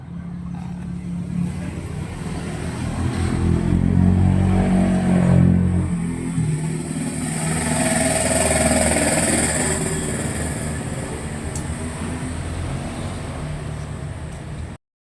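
A Toyota Yaris engine fires up after a carbon clean and idles, revving a couple of times with a rough rumble before settling into a steady run, close by.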